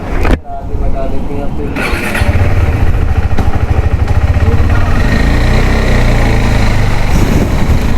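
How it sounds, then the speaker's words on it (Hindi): Motorcycle engine while setting out on a solo ride from Delhi to Rishikesh, a loud continuous pulsing engine note that starts after a brief thump and stays steady up close. "अभी बाइक लेके निकलता हूँ"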